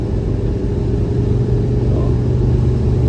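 Steady, loud mid-pitched drone of a 1970 Ford Mustang fastback engine cruising at highway speed around 2,700 RPM, heard from inside the car with constant road rumble and no pauses.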